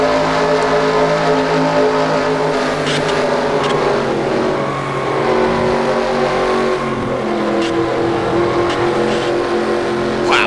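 Race car engines roar continuously in a stock car racing video game at Daytona, a steady loud on-board drone of the Shore Lodge number 2 car with surrounding cars whooshing past.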